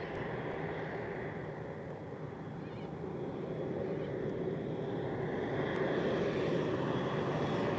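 A low-flying airplane passes over Gold Coast airport on a wet morning, its engine roar a steady broad drone that swells gradually louder as it approaches.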